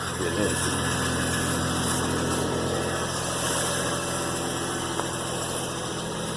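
A GMC Envoy engine idles steadily while warming up, with a low, even rumble and faint rattle, close by and unchanging for several seconds.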